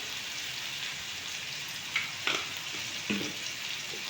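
Fish curry cooking in a pan, a steady soft sizzle of frying with a few light scrapes of stirring, alone and fairly quiet.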